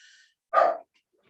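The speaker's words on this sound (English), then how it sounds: "that's a very noisy dog" A dog named Spotty gives a single loud, sharp bark close by, standing out clearly against near silence with only faint background hum before it.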